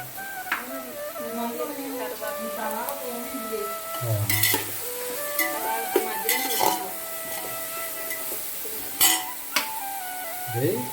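Sliced onions softening in hot oil in a pan for a milk-cooked tapioca and beef dish, giving a steady sizzle broken by scraping stirs and occasional utensil clinks against the pan.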